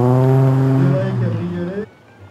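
A classic Delahaye cabriolet drives past close by, its engine drone dipping in pitch as it goes by and then quickly fading, with a voice speaking over it.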